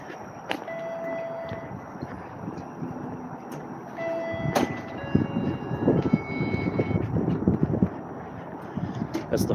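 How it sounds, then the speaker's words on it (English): Several Toronto 504-route streetcars wait in line at a turnaround loop, giving a steady rumble of rail traffic with wind noise and occasional metallic clanks, louder toward the end. "There's a bunch of streetcars waiting in line to turn around."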